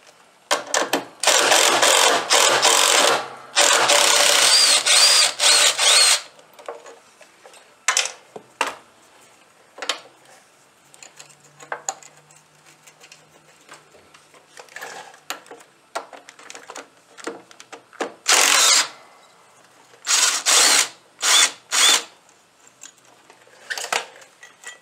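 Power tool, such as an impact driver, removing two bolts from a baffle on a Scag mower bagger, giving several long loud buzzing bursts up close, interspersed with shorter rattling bursts, metallic clinks and handling noises.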